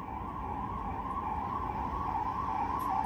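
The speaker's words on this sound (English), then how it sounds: "we'll take that siren as a sign" An emergency vehicle siren wails steadily at a moderate distance, a sustained tonal sweep rising slightly, heard alone against low background rumble.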